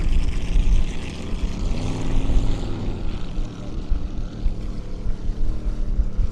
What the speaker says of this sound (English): Sets the benchmark in the hot laps for the 6-litre hydroplanes